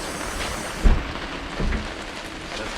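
Steady rain falls outside at an RV's outdoor kitchen, a constant hiss with a couple of brief low thumps, close and moderately loud.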